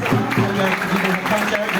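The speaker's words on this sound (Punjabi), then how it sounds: "ਆਪਾਂ ਪ੍ਰਭੂ ਦੀ ਮਹਿਮਾ ਦੇ ਲਈ ਜ਼ੋਰ ਨਾਲ ਤਾਲੀ ਮਾਰਾਂਗੇ" A church congregation claps together in dense, sustained applause during a sermon while voices carry over the top.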